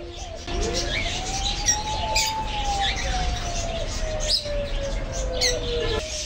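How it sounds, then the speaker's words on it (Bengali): Sun conure parrot chirps and squawks sound repeatedly over steady background noise, with a long drawn whistle-like tone running through the middle. "এই যে পাখিটা দেখছেন এটাই হলো স্যানকুনুর"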